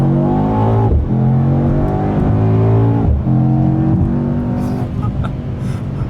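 A 2019 or 2021 Mercedes E63s accelerating hard, its engine roaring loudly and climbing in pitch through several rising sweeps with brief dips at the gear shifts, heard from inside the car.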